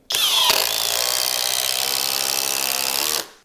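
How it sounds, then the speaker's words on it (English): A Flex impact driver running on a 5 Ah battery drives lag fasteners with one sustained, loud, close burst of rapid hammering whir that starts abruptly and cuts off after about three seconds. "Let's see if there's an audible difference with the 5 amp hour battery."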